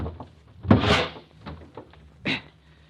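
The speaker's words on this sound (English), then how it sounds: "I can just get this door open." An old door in a radio mystery drama is worked open with a few close knocks and rattles, then one louder thunk of it swinging free.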